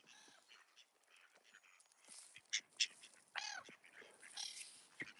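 Ducks quack in a loose, irregular series of calls, some near and loud, others softer, with a few overlapping squawks and no speech.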